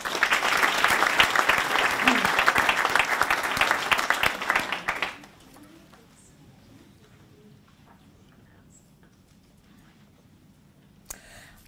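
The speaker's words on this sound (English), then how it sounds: "So can I please ask everyone to put their hands together and congratulate Aga" Audience applause for a George Alexander Foundation Fellowship recipient at a 2018 presentation ceremony: dense, steady clapping from a room of people for about five seconds, then cutting off abruptly into quiet room tone with a faint knock near the end.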